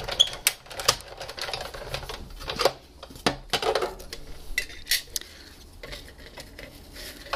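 A paper die-cutting machine feeding framelits sandwiched between cutting plates for a card project, producing a run of clacks, clicks and rattling mechanical knocks at close range, irregular in rhythm, with no voices.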